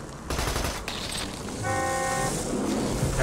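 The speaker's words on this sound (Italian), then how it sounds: "E abbiamo anche il clacson a disposizione" A car horn in Borderlands 2 honks in one sustained blast about a second long over steady game engine noise, following a burst of rapid gunfire.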